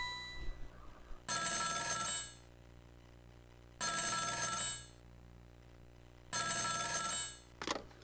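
An in-game telephone in Ghost Trick rings in three long electronic bursts separated by pauses, followed by a short final chirp, clear against a quiet background.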